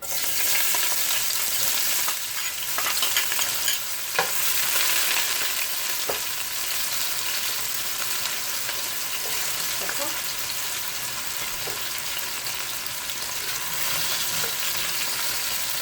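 Onion and hot pepper frying in a pot for Trini curry duck, a loud steady sizzle with occasional stirring clicks and scrapes, spread evenly across the whole stretch.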